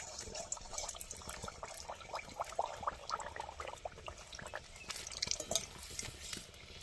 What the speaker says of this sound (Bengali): এবার আলুর পাঁপড়গুলো একে একে ভেজে নেব।